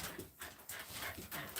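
A dog pants in quick, uneven breathy bursts close by, with brief whimpering sounds mixed in over a short, fairly quiet stretch.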